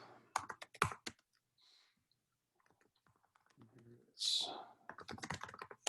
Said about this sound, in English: I'm just going to type this paragraph.